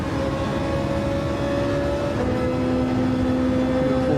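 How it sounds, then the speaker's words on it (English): Ferrari V8 engine heard onboard a GT3 race car at Monza, a continuous loud roar with steady harmonic tones that slide slightly in pitch as the revs change. "The unique sound of that V8 in the Ferrari."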